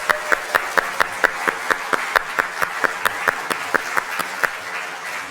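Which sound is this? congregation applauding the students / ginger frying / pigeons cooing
congregation applauding the students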